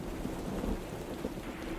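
A stormy night on an isolated island beach, with steady, dense rain and a low rumble of thunder rolling underneath, continuous and enveloping.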